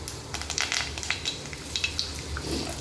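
Curry leaves dropped into hot oil with popped mustard seeds, crackling with quick sharp spits and pops over a steady soft frying hiss, close up and fairly quiet.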